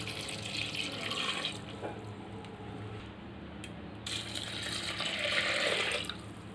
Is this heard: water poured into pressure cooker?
yes